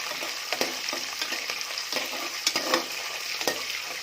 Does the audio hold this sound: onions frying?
yes